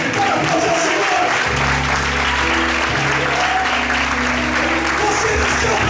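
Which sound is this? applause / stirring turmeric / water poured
applause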